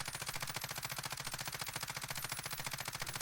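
Sustained automatic rifle fire in Warzone, a long, steady stream of rapid evenly spaced shots at close range with recoil held in check, continuous and loud with no pauses and no talk.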